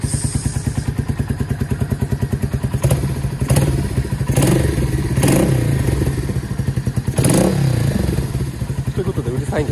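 A motorcycle engine idles loudly and close by with a steady low throb, joined by a few thumps and clatters, then goes on running evenly.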